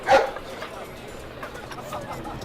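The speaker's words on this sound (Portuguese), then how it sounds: "Os cachorros ali." Dogs barking in the video game Sherlock Holmes: The Devil's Daughter, one loud close bark followed by fainter scattered yips and barks over a quiet street background.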